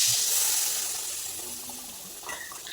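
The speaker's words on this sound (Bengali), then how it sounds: "জল দিয়ে দিলাম একটু জল দিয়ে ফুটিয়ে নিচ্ছি মশলাগুলোকে" Water is poured into spices cooking in a pan for a bhetki fish and vegetable curry, making a continuous gushing splash that gradually fades, with a faint clink at the end.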